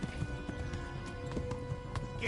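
Rhythmic clip-clop of a galloping horse in the video game Kingdom Come: Deliverance, steady and close, with game sound and faint voices underneath.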